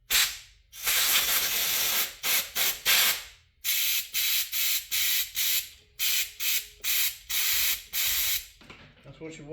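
Carburetor cleaner is sprayed onto a Briggs engine carburetor in a rapid series of loud, close hissing bursts, one long blast and then many short even spurts with brief gaps between them.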